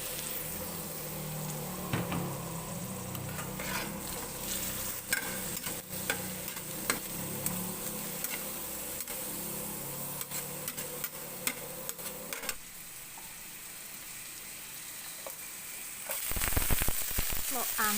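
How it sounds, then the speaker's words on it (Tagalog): Garlic and onions sizzle steadily in a hot pan, a close, even frying hiss with small crackles and occasional utensil clicks, a quieter stretch midway, then a louder burst of sizzling near the end. "At ay i-saute ang garlic o bawang. Idagdag ang onions o sibuyas."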